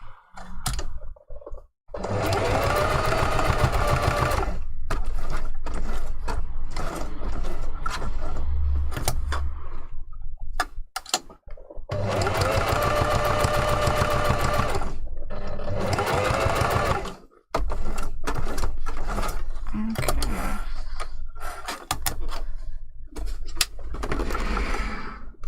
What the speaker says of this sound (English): we're going to sew the fingers to the top side